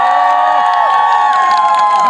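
A crowd at an outdoor karaoke show on a public square in Kyiv claps and cheers, loud and sustained across the short stretch, with whoops and voices over a steady tonal music-like hum.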